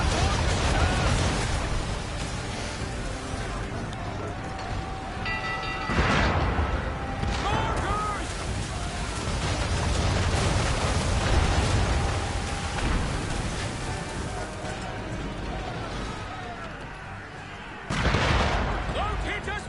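Ship mortars fire from the Aquila in Assassin's Creed III, heavy booming blasts rising out of a constant roar of sea and battle noise, with voices shouting over the din.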